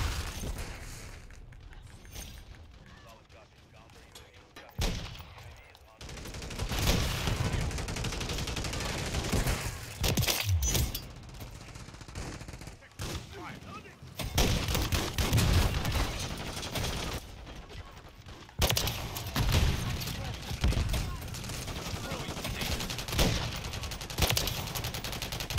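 Sustained automatic gunfire from a Call of Duty match: long bursts of rapid shots and fusillades with booming impacts, loud and close, with a short quieter lull near the start.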